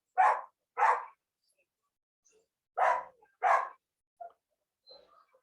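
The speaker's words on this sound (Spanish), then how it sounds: "Espera un momentito, voy a callar a mi perrito." A small dog gives two pairs of sharp, close barks separated by a pause, then trails off into a few faint, short whimpers and yips in an otherwise quiet room.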